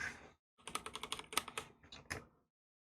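Clicky computer keyboard keys tapped in a quick burst of about a dozen crisp, close presses, followed by a short pause and a couple more clicks.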